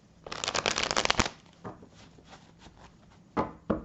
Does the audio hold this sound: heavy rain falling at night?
no